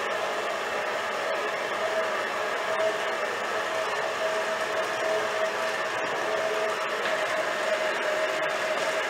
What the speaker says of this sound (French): je suis désolée pour le bruit du robot